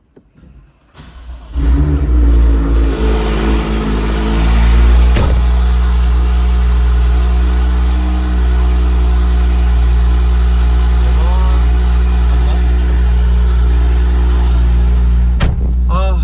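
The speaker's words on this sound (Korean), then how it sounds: "진짜 이제 시동 걸고 작동 잘 되는지 한번 확인해 주시죠." An F-chassis car fitted with an Akrapovic exhaust cranks and fires up, blips into a loud rev, then settles into a steady, deep idle close by.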